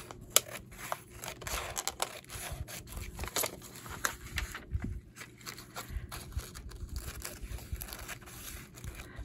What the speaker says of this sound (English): These are now the worst scissors in the world.